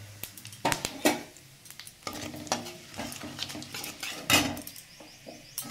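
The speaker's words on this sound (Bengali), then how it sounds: "আর 1/2 চামচ জিরে, গোটা জিরে, এটা আমি ফোড়নে দিয়ে দিলাম।" Bay leaf, dried red chili and whole cumin seeds tempering in hot frying oil, a soft sizzle broken by sharp scrapes and clinks of a spoon against the pan, no voices.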